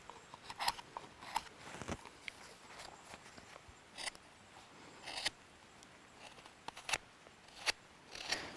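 A craft knife whittles and trims a wooden kuksa, giving a sequence of short, sharp cuts and scrapes at irregular intervals, close and fairly quiet.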